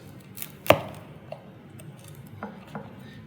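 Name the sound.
pizza with cauliflower crust being cut into quarters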